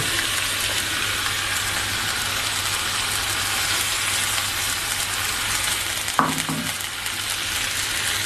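Chital fish bones frying in a hot pan, giving a loud, continuous close sizzle with a steady low hum beneath and one brief clatter near the end.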